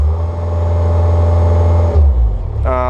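A Bobcat 430 mini excavator diesel engine, just over 1,600 hours, idles with a steady low drone, then the throttle shifts and the engine note changes near the end, loud and close.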